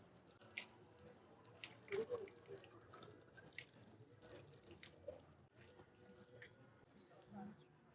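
Water runs from a tap at a sealed healing-water well in Sanliurfa, a steady splashing and trickling stream with drips, close by and moderately quiet, with faint voices and movement around it.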